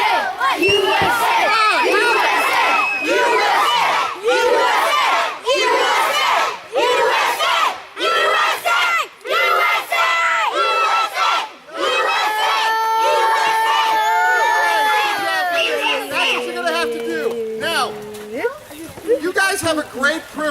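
Children at Valley Mill Camp cheer and chant "USA" in a loud, continuous crowd roar of shouting voices, with a few higher sustained yells toward the end.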